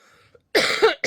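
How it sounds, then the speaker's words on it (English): A single close, harsh morning cough bursts out after a moment of near silence, followed by the start of another. "Morning coughing, sorry."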